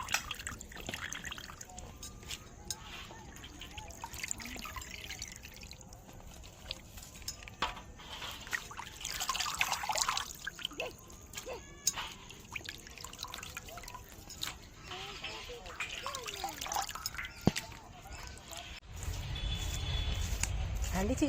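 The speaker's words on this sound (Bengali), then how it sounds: "এবার আমি পানিটা ছেঁকে নেব।" Water being strained off washed chicken leg pieces in a kitchen, making a steady trickling, dripping pour with some louder splashy moments, under occasional talk and household background noise.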